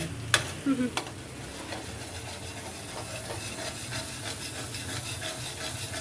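Coconut milk sizzles steadily as it fries down into oil in a pan, a soft continuous crackle with a few stirring knocks near the start and no talking.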